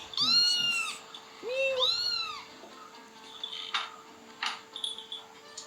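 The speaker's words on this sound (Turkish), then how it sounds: "Şu an adam kediyle oynuyor arkadaşlar" A cat meows twice in quick succession, close and clear, followed by softer rustling and faint clicking.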